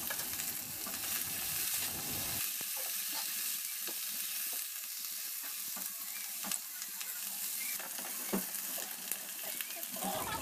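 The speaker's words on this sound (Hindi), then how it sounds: "2 से 3 मिनट हम इन सबको फ्राई करेंगे।" Mixed vegetables for chilli paneer sizzle and crackle steadily in a hot pan, a dense, continuous frying hiss with scattered stirring clicks, close and uninterrupted by voices.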